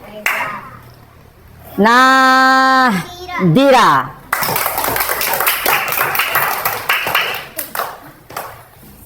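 A grade 5 Qur'an Hadith class claps for a student, a burst of many small hands that is fairly close and loud and lasts several seconds, following a teacher's voice and children's speech.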